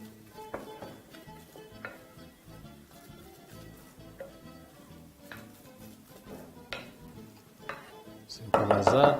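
A spoon mixes Vietnamese dumpling filling in a bowl, giving soft, irregular scrapes and light clinks against the bowl, quiet at first and ending in a louder, denser burst of mixing.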